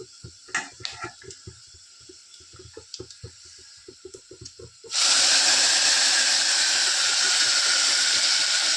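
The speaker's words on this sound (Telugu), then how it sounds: "ఇప్పుడైతే పోపులు వేసేస్తాము" After a few light clicks and taps, spices drop into hot oil for tempering and burst into a loud, sustained sizzle that hisses on close by until the end, with no talk.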